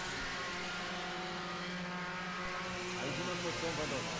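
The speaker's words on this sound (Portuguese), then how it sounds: "Olha a quantidade de carro na freada do túnel lá." Touring race cars brake hard into a tunnel corner during a Brazilian touring car race, with engines droning and downshifting together under a broadcast commentator's talk.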